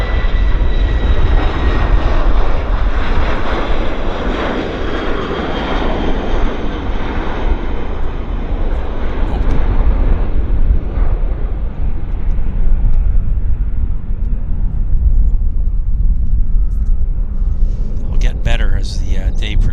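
Airliner taking off in strong wind at Vancouver Airport, a loud sustained jet roar that fades slowly as it climbs away, with someone talking over it.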